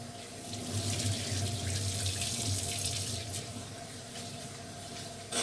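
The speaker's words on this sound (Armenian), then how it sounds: "Հիմա բրինձն եմ լվանում" Round rice is washed under a running kitchen tap, a steady close rush of water filling and splashing in a sink with no talking.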